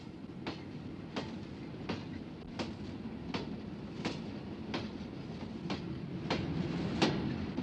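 A train rolls past on the right bank of the Rhine with a rumbling drone and regular clickety-clack of wheels over rail joints, steady and fairly close.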